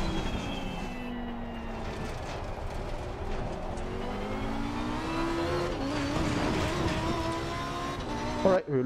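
A Porsche racing in a driving video game, its engine whine rising and falling through gear changes, moderately loud and steady throughout, with a short thump near the end.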